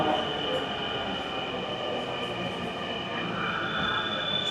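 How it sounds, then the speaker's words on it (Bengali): A local train pulls into a busy station, a steady heavy rumble with metallic rail hum and faint squeal that holds at a constant level throughout, with no voices. "তাহলে আমাদের ট্রেনটাও চলে আসছে আলহামদুলিল্লাহ।"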